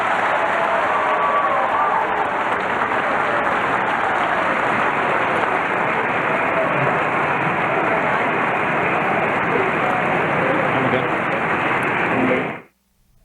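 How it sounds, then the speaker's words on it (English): A large audience at a 2008 Democratic presidential primary debate in South Carolina applauds in a long, sustained roar of clapping with some cheering, loud and even throughout before cutting off abruptly near the end. "Now you can applaud."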